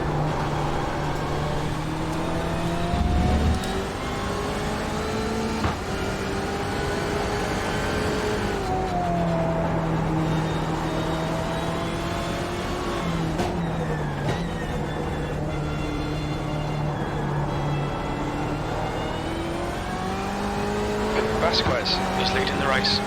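A BMW M8 IMSA race car in iRacing at Mid-Ohio gives a steady, loud engine drone that climbs and drops with gear changes and throttle, holding for the whole stretch.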